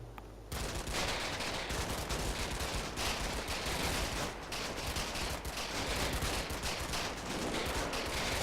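Heavy sustained gunfire from the wartime video game Combat Mission: Battle for Normandy, with dense overlapping rifle and machine-gun bursts rattling continuously for several seconds after a brief quiet start.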